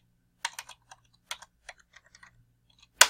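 A login being typed on a computer keyboard, with scattered close keystroke clicks in short bursts and pauses, ending in one sharp louder click.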